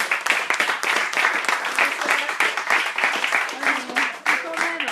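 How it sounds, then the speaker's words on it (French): A room full of people applauding at a community meeting in Le Havre, a sustained, dense patter of clapping that rises and falls slightly, with voices and a few words mixed in near the end. "Je nous applaudis."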